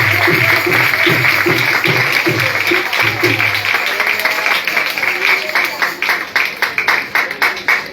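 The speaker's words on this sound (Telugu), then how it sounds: "అందరూ చప్పట్లు కూడా దేవుని పడతారు." A worship congregation claps along during a Telugu Christian praise service; dense clapping runs throughout, with a voice and musical tones over it for the first half, after which the claps stand out more sharply.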